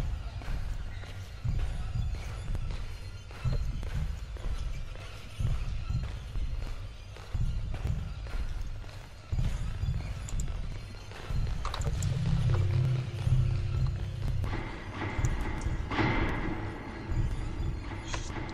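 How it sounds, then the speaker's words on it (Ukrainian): Running footsteps in the horror game Slender: The Arrival, a busy series of soft thuds with heavier, louder stretches toward the end, mixed with game sounds and a voice talking over it. "Я чую, хтось біжить."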